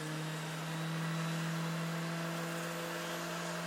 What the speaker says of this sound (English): Now I'm going to take the smaller sanding bit